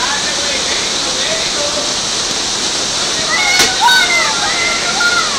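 Water rushes steadily at a waterfall during a rappelling descent in Costa Rica, a loud, broad, constant roar close by, with a brief shout and voices rising over it near the end.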